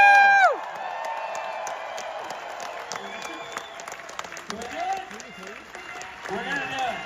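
A film convention crowd at CinemaCon cheers and applauds as the lights go down before a trailer, with scattered whoops and clapping under chatter, starting loud and thinning to a moderate murmur.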